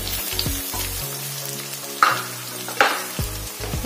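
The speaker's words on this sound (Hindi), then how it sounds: "इन्हें भी 1 मिनट ऐसे भूनेंगे तेल में।" Raw mango and ginger frying in hot oil with onions, a continuous close sizzle as the pieces are stirred, with a couple of sharper scraping spikes from a utensil.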